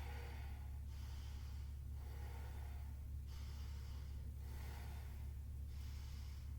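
Slow, deep breaths during a yoga pose, five or six rhythmic inhales and exhales heard close and soft over a steady low hum, with no talking.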